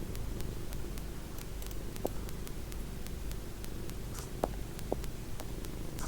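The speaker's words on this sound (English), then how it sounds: "hear the purr." A cat purrs in a steady, low continuous rumble, close and fairly quiet, with a few faint clicks over it and no talking.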